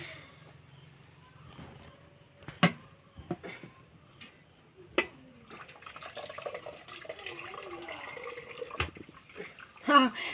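Water drains from cooked ration rice through a perforated cooking pot out in a yard. Splashing and trickling come with occasional metallic clunks, and a voice is heard at times.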